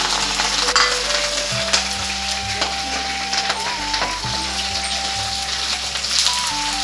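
Sesame seeds and spices fry in plenty of hot oil with a loud, continuous crackling sizzle, close up, while a steady tonal hum sits beneath it.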